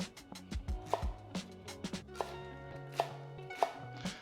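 A knife cuts a leek into quarters on a cutting board while preparing homemade chicken noodle soup: a close, irregular series of sharp chopping knocks and thuds with short pauses between strokes.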